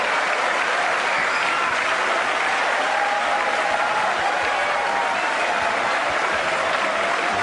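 Crowd applauding a pool player who has just sunk the 9 ball in the finals of a professional nine-ball match: a dense, steady wash of clapping throughout, loud and unbroken, with no voices.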